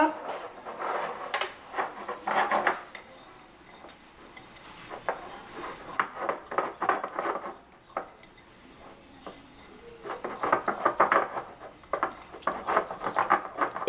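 A utensil stirs a homemade toothpaste mixture in a bowl, making repeated scraping and clinking bursts close by. A voice talks softly in the pauses between them.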